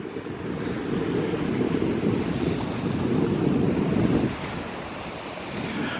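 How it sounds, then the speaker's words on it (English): Strong wind buffets the microphone on a hilltop above a lake, a loud, roaring rush that swells and eases with gusts and then drops lower near the end. "Probably can't hear me because it's too windy."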